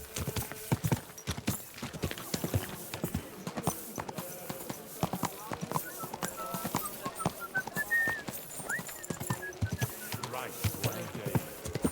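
Horse hooves clip-clopping in the medieval video game Kingdom Come: Deliverance 2, a steady rapid rhythm of hoofbeats close up with outdoor ambience, birdsong and a brief whinny or whistle mixed in.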